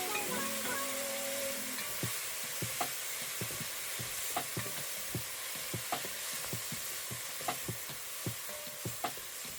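Arborio rice and white cooking wine simmer and sizzle in a pan, a continuous frying hiss broken by regular sharp clicks and taps of stirring, with no talking.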